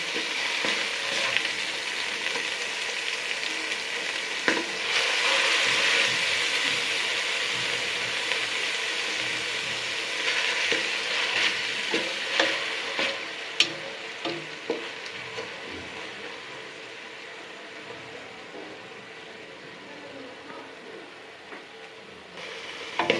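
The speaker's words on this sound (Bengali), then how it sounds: "এই যে এখন আমার পেঁয়াজটা ভাজা হয়ে গেছে হালকা।" Onion paste frying and being stirred in a pan for a chicken kosha curry, a steady sizzle with occasional scraping and clinks of the spoon, close and continuous with no talking.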